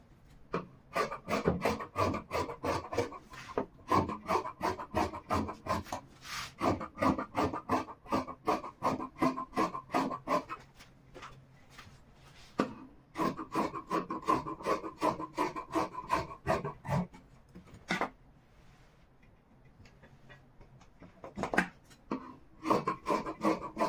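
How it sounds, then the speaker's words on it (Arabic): Scissors cut through dress fabric in a sewing session, a close, steady series of rasping snips in quick rhythmic bursts, with a brief pause before the cutting resumes. "هسه راح اجي اقص مباشرة. بنات راح نبدي نقص"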